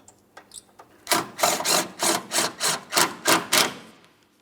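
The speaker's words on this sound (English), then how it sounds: "go ahead and start it in and we'll snug it up" A headlamp mounting bolt being started and snugged on a 2004-2008 Pontiac Grand Prix: a few light taps, then about eight evenly spaced rasping strokes, close and fairly loud, with no voices.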